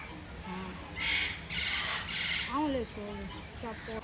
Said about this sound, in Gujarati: અહીંયા જો ભાઈ કેવો મસ્ત છે જો પોપટ છે